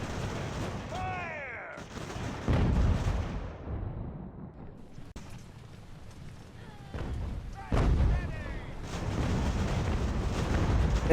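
Ships' cannons firing in a naval battle in Ultimate General American Revolution, heavy booming blasts in separate volleys with rumbling tails, a voice speaking between them and whistling projectiles overhead.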